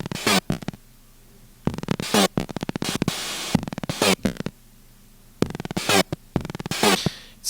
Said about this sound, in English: a really nice synth made by Steve Duda